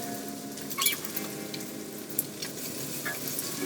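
Chilies hitting a pan of frying grilled pork belly sisig, a steady close sizzle with soft crackles and a few sharper spatters and stirring scrapes, no talk over it.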